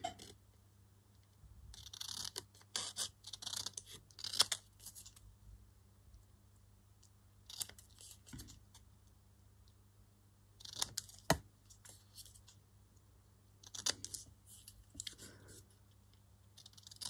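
Scissors snip through decorating material for a poppy craft project in short, quiet bursts of crisp cutting, several spaced clusters over a low steady background hum.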